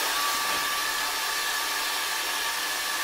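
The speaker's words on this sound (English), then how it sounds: "Using my new track saw there" A new track saw cutting wood for wardrobe shelf supports, a loud continuous high whine with a steady buzzing tone held unbroken for a few seconds, with no talk over it.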